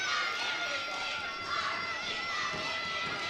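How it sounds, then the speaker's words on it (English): Home crowd noise at a high school varsity basketball game, Edgewood hosting Northwest, a steady dense roar of many voices and cheers swelling slightly, filling the gym throughout. "The crowd here from Edgewood behind us getting loud."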